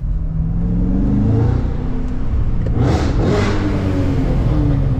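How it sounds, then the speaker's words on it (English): A 6.2-liter supercharged LT4 V8 in a 2023 Cadillac CT5-V Blackwing revs hard and loud with exhaust valves open, a steady roaring drone that swells into a sharper rev burst around the middle, heard up close. "Exhaust valves are open."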